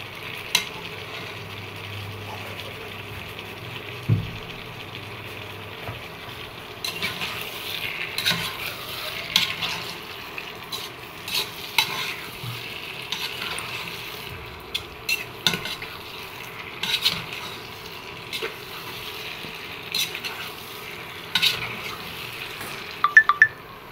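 Eggplant frying and being stirred in a pan for a pabda fish curry, with a soft steady sizzle and occasional scraping stirs that grow busier partway through, close and moderately quiet with no talk.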